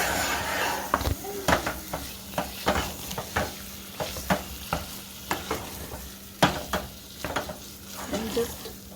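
Red chili powder and cumin powder sauté in a pan for an enchilada pie, a soft sizzle under repeated scraping strokes of a spatula, close but fairly quiet, with a little speech in the background.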